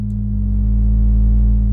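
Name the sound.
synthesizer oscillator in vintage mode with gnarly warmth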